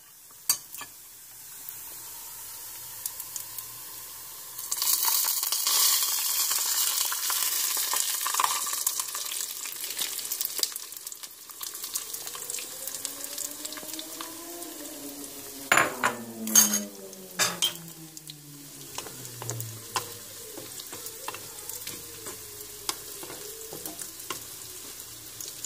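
Beaten eggs are poured over frying sucuk sausage in a pan, raising a loud sizzle mixed with utensil clinks and scraping against the pan, close by and without talk.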